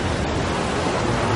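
Towering tsunami waves rising in a Shaktimaan superhero TV episode, rendered as a steady, loud roar of surging water that fills the whole moment without any voices.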